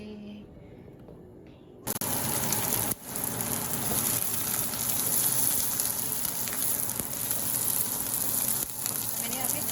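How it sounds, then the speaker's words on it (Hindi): Oil for a dal tadka bursts into a loud, steady sizzle close up after a quiet start, with a brief break near the beginning, then holds a continuous crackling hiss. "और अब मैं दाल का तड़का बना रही हूँ।"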